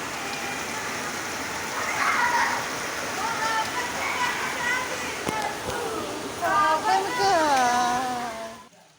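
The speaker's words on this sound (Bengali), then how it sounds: "একবারে এত বৃষ্টি হচ্ছে মানে বলার নয়।" Heavy rain falls on a flooded street as a steady, even hiss, while a person talks over it throughout.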